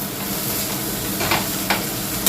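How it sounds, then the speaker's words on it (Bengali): Okra and potatoes fry in a home kitchen pan, giving a steady close sizzle with a few brief stirring scrapes. "তো ঢেঁড়স আলুটা আমার ভাজা হয়ে গেছে"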